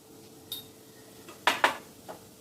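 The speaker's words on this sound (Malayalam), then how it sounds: "നല്ലോണം ഇളക്കണം" Spoon clinking against a pot while stirring a rice dish seasoned with asafoetida powder, a few sharp metallic scrapes and taps, two close together, over quiet kitchen background.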